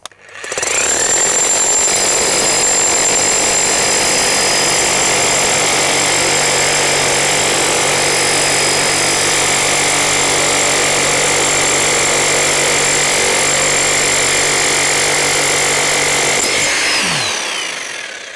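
A Bosch GSH 5CE demolition hammer with a chisel pounds a stone in one loud, continuous burst of rapid hammering for about sixteen seconds, then cuts out abruptly near the end.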